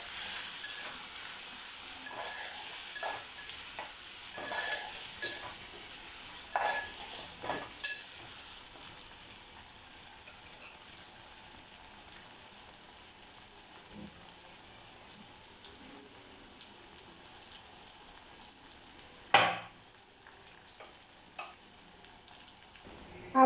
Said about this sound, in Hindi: अब हम इन सबको अच्छे से मिक्स कर लेंगे।